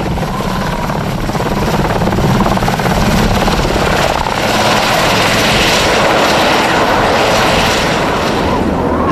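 A helicopter in Greenland roars steadily nearby, its dense rotor and engine noise loud and continuous throughout with no letup.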